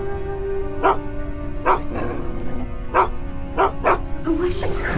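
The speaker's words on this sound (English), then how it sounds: "What's she barking at?" A dog barks repeatedly nearby, sharp single barks spaced about a second apart, ending with a brief higher yelp over a low steady hum.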